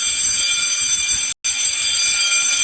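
A smoke detector alarm blares a loud, steady electronic tone continuously, cutting out for a brief instant before resuming at full strength.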